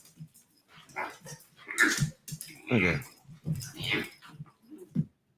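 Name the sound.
dog barking and whimpering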